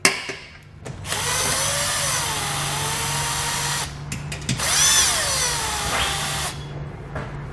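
Power drill with a 10mm socket running on bolts during work on a 2020 Jeep Cherokee, with two long whirring bursts that rise and fall in pitch, separated by brief pauses, loud and close with no talking.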